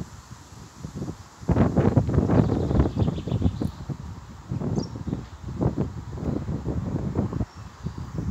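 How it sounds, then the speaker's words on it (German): Storm wind gusts sweep across an outdoor spot, roaring and buffeting the microphone in uneven surges that swell loudly after a quieter opening and keep rumbling, with no talking. "Es kommt ein Wind."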